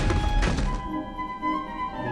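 The Depulso spell from the PS2 Harry Potter and the Order of the Phoenix game pushing an object, a single heavy thunk up front followed by a softer resonant tail and quiet game ambience.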